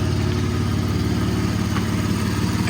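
Low, steady rumble from the exhaust of a Gen 3 Ford F-150 Raptor fitted with a Formline turbo kit, idling close by with a pulsing drone throughout and no voices.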